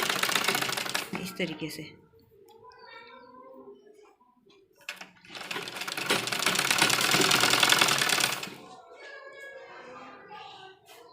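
Domestic sewing machine stitching a recycled dupatta cross strip with a cord folded outward, rattling in two loud bursts, a brief one near the start and a longer run midway, with someone talking quietly in between.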